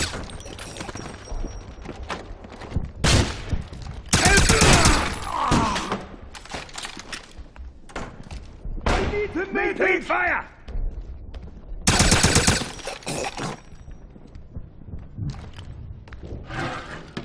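Wolfenstein PC game combat: loud bursts of automatic gunfire and single shots in repeated volleys, with thuds, impacts and shouted voices between them, close and intense.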